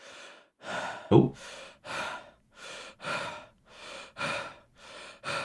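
A character in the video game Resident Medieval breathes heavily: about ten deep, rhythmic breaths with short pauses between them, close and clear, with one sharper gasp early on.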